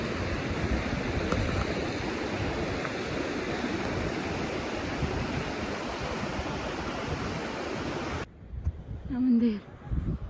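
A small mountain river rushes under a bridge along a Himalayan pilgrimage trail, a steady, loud broadband roar of flowing water lasting most of the stretch before cutting out abruptly near the end, where faint sounds and a brief voice follow.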